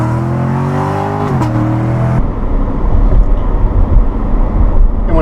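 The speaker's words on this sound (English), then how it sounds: "And just the exhaust sounds incredible on this car." A Chevrolet Corvette Grand Sport's engine revs up through its exhaust, first a rising tonal pull that drops off, then a loud rough rumbling burble, close and without talk.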